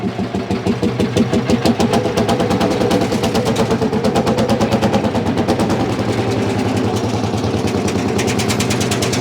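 An old Ursus C45 (Lanz Bulldog) tractor engine chugs steadily with a loud, rapid knocking beat, running continuously up close with no voices.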